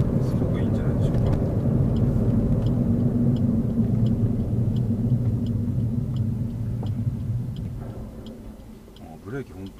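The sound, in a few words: Suzuki Swift Sport 6MT engine cruising in sixth gear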